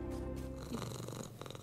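A cat in the video game Moonscars purrs in a low, steady, rumbling rhythm, close and fairly soft, with no one talking.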